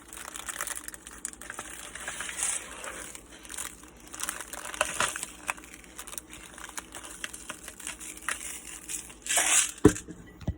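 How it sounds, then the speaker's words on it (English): Crinkling plastic and a grinding salt grinder stand in for a crackling fire. The irregular rustle and crunch is close and fairly soft, with a few louder snaps toward the end. "with my crinkling plastic and my salt grinder, I was able to create a good fire sound"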